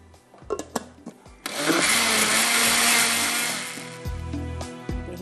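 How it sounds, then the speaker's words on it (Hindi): Blender whisking yogurt for Hyderabadi kadhi, loud close motor whir that starts abruptly after a few clunks and runs steadily for about two seconds before winding down with more knocks. "दही को भी फेंट लिया।"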